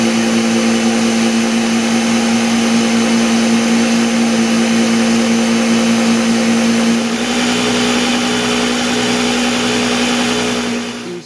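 A blender runs at full speed pureeing sweet potatoes into pie filling, a loud steady whirring drone that holds throughout and eases slightly in pitch and level near the end.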